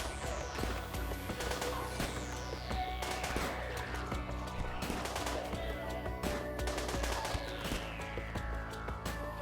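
Gunfire in RimWorld, a steady patter of small sharp shots and bursts spread across a busy battle soundscape, fairly quiet and layered with other game effects.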